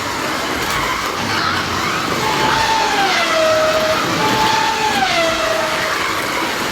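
Subaru Impreza WRC slot cars racing down the back straight of a slot track give a steady, whining motor drone with a rising and falling pitch sweep as they pass, continuous and fairly loud, with no talking.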